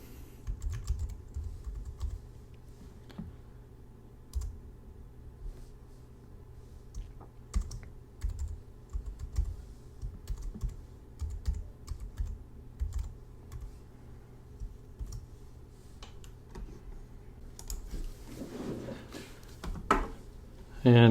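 Apple ID and password being typed on a Mac computer keyboard, a steady run of close, irregular key clicks with brief pauses.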